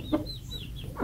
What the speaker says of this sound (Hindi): इस केज में ये मुर्गे हैं